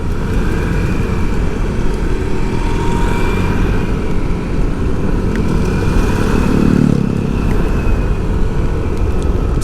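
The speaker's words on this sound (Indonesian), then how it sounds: "Vespa nggak kuat nanjak" Vespa scooters and motorcycles labor up a steep mountain road between Cidaun, Naringgul and Ciwidey at night, a close, loud engine drone with a buzzing exhaust note that swells briefly as a vehicle passes.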